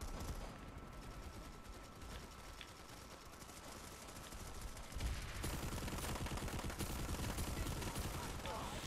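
Rapid automatic gunfire in the video game Planetside 2 rattles in dense, continuous bursts, growing louder and heavier after the midpoint amid other battle noise.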